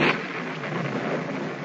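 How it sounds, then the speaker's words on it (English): A rain shower makes a dense, steady hiss and patter throughout, on a muffled old recording with no voices. "Raining."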